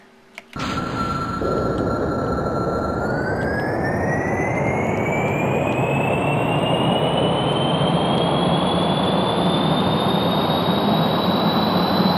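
Spaceplane jet engines on a runway in Kerbal Space Program spool up into a loud, continuous roar. A high whine climbs steadily in pitch over the rumble, with no voices.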